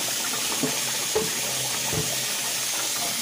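Tap water runs steadily into a sink, rinsing salt and baking soda off raw chitlins, a constant splashing wash with a few soft clunks of the pieces being moved, no talking.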